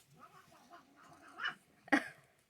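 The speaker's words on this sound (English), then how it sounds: "you probably hear the blind cat fighting with the gray cat outside the door" Two cats fight just outside a door, yowling and caterwauling in a run of faint, drawn-out cries that ends in a sharp, loud hiss-like screech.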